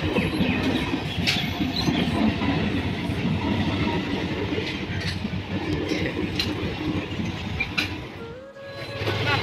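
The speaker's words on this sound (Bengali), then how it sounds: "আস্তে না আস্তে ট্রেন ঢুকে গেল।" A train rolls through a railway level crossing with its gate lowered, a loud, continuous rumble with rhythmic clattering of wheels on rail joints and metallic clinks. The sound stays close and steady, then dips briefly near the end.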